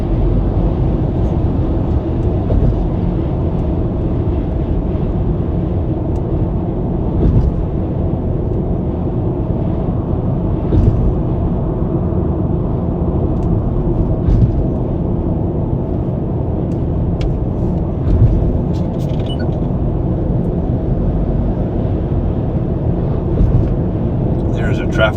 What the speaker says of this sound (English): I hope you guys can hear the sound of the road really well.